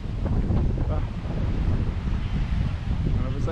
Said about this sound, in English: wind's somewhere between 20 and 25 miles an hour here